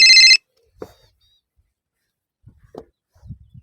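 A telephone bell rings in a single short burst at the start, then stops, leaving near silence with a few faint soft knocks and rustles.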